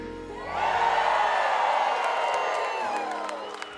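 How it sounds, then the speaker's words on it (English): A large theater audience in Branson erupts into loud cheering, whooping and applause that swells quickly and holds steady before easing slightly toward the end. "Now all of Branson is cheering."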